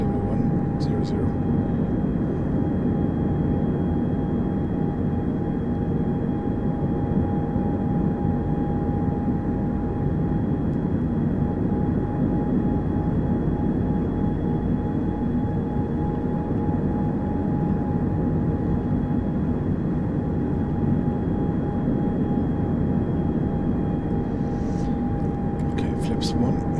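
Boeing 747-8 jet climbing in a flight simulator game, a constant loud roar of engines with a steady tonal whine, unbroken throughout, with a few faint clicks near the start and end.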